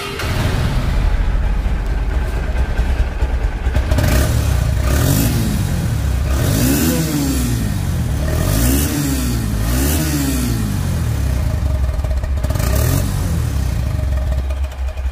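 A 2022 Honda X Blade DD ABS motorcycle engine running nearby, loud and continuous, with repeated throttle revs rising and falling in pitch over a steady mechanical clatter.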